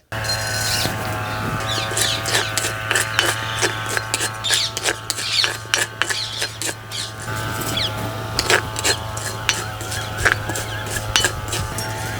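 An electric grinder whirs with a steady hum as roasted garam masala spices rattle and scrape inside it, with irregular gritty bursts and pauses close up and no talking.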